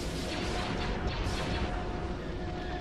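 Spaceship cannon fire in Star Wars: Empire at War, during a fleet engagement near a destroyer: a continuous, fairly quiet barrage of rumbling blasts and booms under a steady drone.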